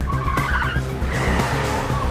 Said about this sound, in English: another car comes from out of nowhere and is now a part of this too